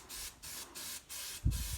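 Foaming oven cleaner sprayed onto a Pajero exhaust manifold in short, hissing aerosol bursts, about four close bursts with brief gaps, ending in a low clunk and handling noise.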